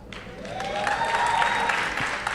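A comedy show audience claps in a steady, dense burst of applause that fills the whole moment.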